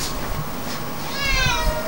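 A cat meows at a cat sterilization clinic where cats are kept before and after surgery, a clear drawn-out call rising near the end over quiet room noise.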